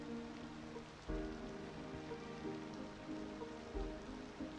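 Steady rain falls in the Cities Skylines 2 city-building game, a dense, even patter with a couple of low thumps, continuous and fairly quiet with no talking.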